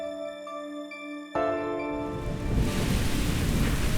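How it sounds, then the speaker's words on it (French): A sustained musical tone gives way to a steady wash of rain, the hiss growing fuller and heavier over a few seconds. "La pluie tombe doucement"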